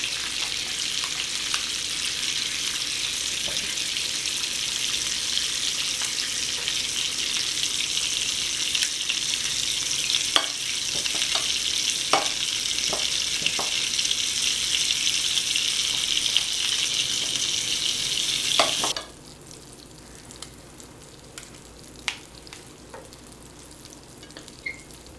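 Danish aebleskiver batter fries in bubbly butter over medium heat in a pan, a steady close hiss and sizzle with scattered crackles and pops that drops to a quieter, sparser sizzle toward the end.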